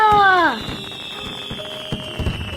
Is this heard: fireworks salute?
yes